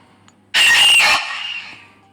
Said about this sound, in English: He makes a scream when you look at him.